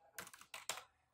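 Keys clacking on a computer keyboard as an email address is typed, three short bursts of close, crisp keystrokes with no talking.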